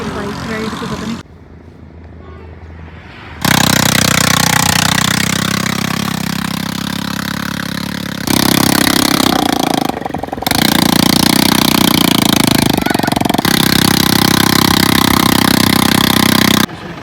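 Motorcycle engine running steadily for a bike ride at sand dunes, loud and close with a sustained droning tone that fades briefly, then returns and holds for most of the stretch.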